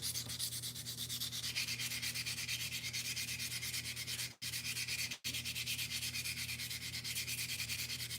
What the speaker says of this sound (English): wet sanding is really specifically to keep the dust down and to keep the sandpaper clean